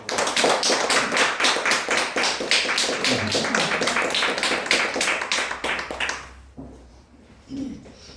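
A church congregation claps in quick, fairly even rhythmic beats for around six seconds, loud and close, then the clapping stops abruptly, leaving quiet room tone and a brief murmur.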